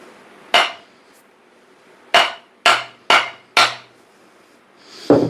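A heavier hammer strikes metal on a build project, giving five sharp, ringing close blows spaced unevenly with short gaps between them, followed by a final clank near the end. No one speaks.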